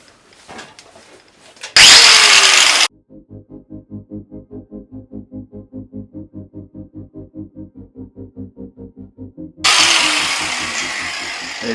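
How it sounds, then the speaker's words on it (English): A disc cutter slices through metal on a Porsche 928 tank cradle in two loud bursts of bright grinding noise, with a rhythmic mechanical chugging of roughly twenty even beats filling the quieter stretch between them. "obviously I've got a disc cutter so I can just slice it off"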